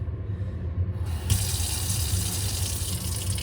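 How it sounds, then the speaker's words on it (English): A kitchen sink faucet is switched on partway through, and water then streams steadily and loudly into the basin with a bright, constant hiss; no one speaks. "turn on your sink"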